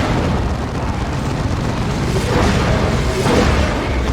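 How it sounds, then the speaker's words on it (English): A lascannon shot explodes during a Warhammer 40k: Dawn of War 2 free-for-all battle, with loud, rumbling blasts swelling twice over dense, continuous battle noise. "And it's another las cannon."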